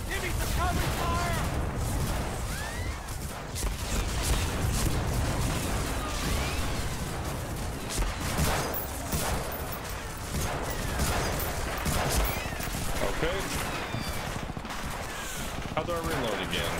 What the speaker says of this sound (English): I'll give you some covering fire!